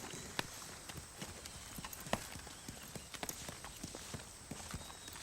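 A horse walks on a hard surface, its hooves clip-clopping in a steady, fairly quiet rhythm of separate knocks with no talk.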